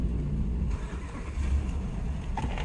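A truck engine runs outside as a low, steady rumble that rises briefly near the end, with no talk.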